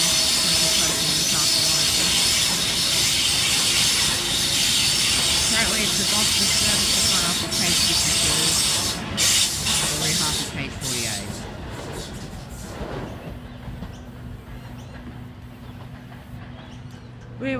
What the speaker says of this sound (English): We have a Waratah on platform 1.